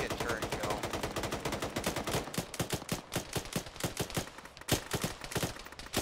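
Rapid bursts of automatic gunfire in a military shooter video game, aimed at a UAZ vehicle on a road, with dense overlapping cracks and shots rattling steadily throughout.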